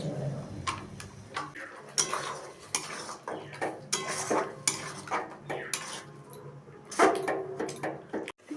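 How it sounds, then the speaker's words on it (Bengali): Spice paste of chilli paste and other spices being stirred and fried with sour yogurt in a pan for a chicken curry, a metal spoon scraping and clinking against the pan in irregular strokes, close and moderately loud. "আমি সবগুলোকে একসঙ্গে ভালো করে কষিয়ে নেব।"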